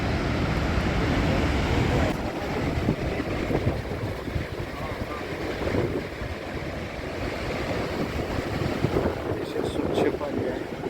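Niagara Falls roaring on the Canadian side, a heavy continuous rush of falling water mixed with wind buffeting the microphone, constant and close.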